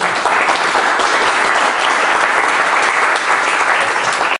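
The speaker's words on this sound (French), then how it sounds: "On l'applaudit." Loud, dense audience applause for an author at a French literary broadcast event, many people clapping continuously for over four seconds before it cuts off abruptly.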